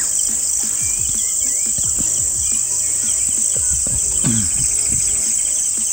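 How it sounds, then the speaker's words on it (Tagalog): An unusual bird call rings out at dusk over a steady, loud chorus of crickets and insects, with a few lower call notes near the middle. "mayroong ibon na kakaiba po yung boses"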